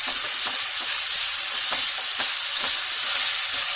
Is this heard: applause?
no